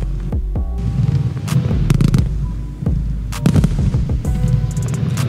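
Volt Heisenberg consumer fireworks going off, a rapid series of sharp booming bursts and crackling reports over a heavy continuous rumble, loud and close, several blasts overlapping.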